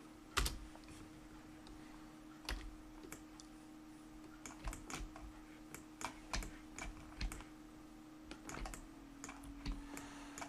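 Computer keyboard keys clicking in short irregular bursts of taps while entering modeling shortcuts in Blender, close and fairly quiet with no talking.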